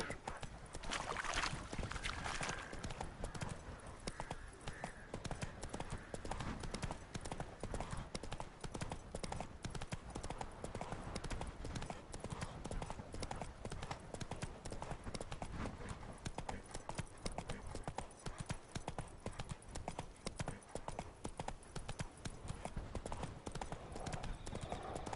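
Horse hooves gallop in The Witcher 3 with a dense, continuous clip-clop that drives on loud and steady for the whole stretch, underneath a wash of game ambience with faint voices.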